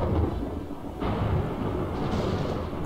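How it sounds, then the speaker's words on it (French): A violent thunderstorm in an Age of Empires IV campaign mission from the Hundred Years' War rolls as loud, continuous low thunder and storm noise, with a sharper surge partway through and no talk. "un violent orage surprit l'armée"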